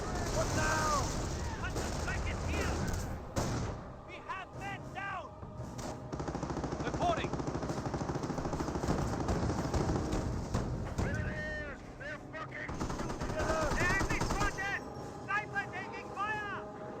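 Armored car machine-gun fire in a Company of Heroes 1 battle, rapid bursts over continuous combat noise and explosions, with a commentator talking over it.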